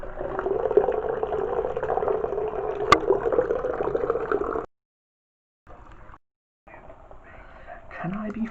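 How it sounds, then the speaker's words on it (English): Cold water gushes from a tap into a bath in a steady, full rush for several seconds, then cuts off, followed by quieter splashes and movement with a person talking. "it's cold water coming in"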